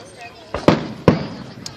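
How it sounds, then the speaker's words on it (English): Two sharp fireworks bangs burst about half a second apart, loud and close, each followed by a brief crackling decay, with a fainter pop after. "Dang, look at these fireworks"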